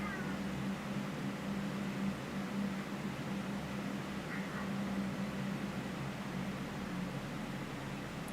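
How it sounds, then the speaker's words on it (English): Pet cat meowing faintly in a quiet room, a couple of soft plaintive complaints rising above a steady background hiss and hum. "Sorry if you can hear my cat, she's just"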